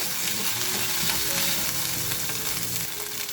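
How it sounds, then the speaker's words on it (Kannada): Ginger and garlic frying in a pan over a medium flame, a steady, dense sizzle that holds close and loud throughout with faint stirring scrapes and no voices. "ಶುಂಠಿ ಬೆಳ್ಳುಳ್ಳಿ ಹಸಿ ವಾಸನೆ ಇರುತ್ತಲ್ಲ ಅದು ಹೋಗೋ ತನಕ ಸ್ವಲ್ಪ ಫ್ರೈ ಮಾಡ್ಕೋಬೇಕು ಮೀಡಿಯಮ್ ಫ್ಲೇಮಲ್ಲಿ ಇಟ್ಟು ಫ್ರೈ ಮಾಡ್ಕೊಳ್ಳೋಣ"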